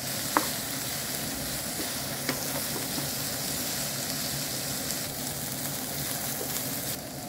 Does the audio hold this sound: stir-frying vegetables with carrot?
yes